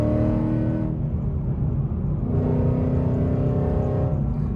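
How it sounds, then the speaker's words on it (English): A Subaru WRX STI engine with stock exhaust revs and drones with a steady low rumble, rising in pitch twice as the throttle opens. "Like the engine sounds louder, not the exhaust."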